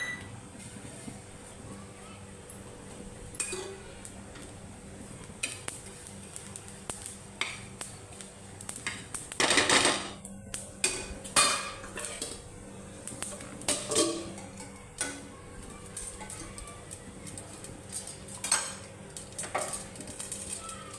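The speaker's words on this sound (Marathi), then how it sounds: "पांढरे तीळ भाजून घ्यायचे" White sesame seeds dry-roast in a pan with scattered crackles and sharp scraping clinks of a spatula against metal over a low background hum. The clatter is irregular and sometimes louder.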